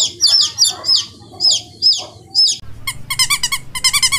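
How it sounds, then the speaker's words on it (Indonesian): A toy chicken egg hatches while playing recorded chicken sounds: several short rooster-like squawks come in a loose rhythm, followed by a faster run of bright repeated clucks, loud and close with no voices. "ada telur ayam yang lagi netas"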